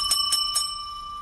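A bicycle-style bell rings three quick, bright dings in close succession, each with a sustained metallic ring that lingers and fades, near and alone.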